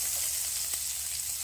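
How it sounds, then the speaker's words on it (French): Carrots with spices sautéing in a pan for a lamb and vegetable dish give a steady, soft hiss of sizzling, even and close, with a faint tap partway through. "Je vais laisser revenir les carottes comme ça avec tous les épices."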